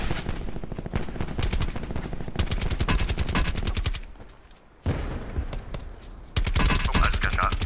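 Rapid bursts of automatic gunfire from the Call of Duty Black Ops 4 video game, dense crackling volleys that pause briefly midway before resuming loudly.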